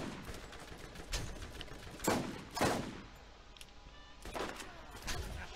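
Gunfire in Borderlands cracks in several bursts at irregular intervals, with some sharp single shots, over a constant low background noise.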